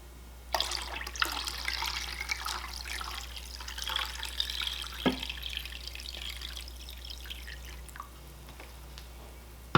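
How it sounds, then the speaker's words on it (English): Water is poured into a crock pot holding fabric dye, making a steady, close splashing and trickling that runs almost without a break for about nine seconds. Nobody speaks. "I want to add a little bit more water to bring the water level up higher"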